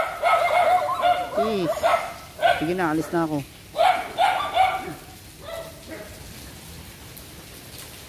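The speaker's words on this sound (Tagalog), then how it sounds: "Ito ang aso." A dog barks and yips in short bursts over the first half, close by and mixed with people talking nearby.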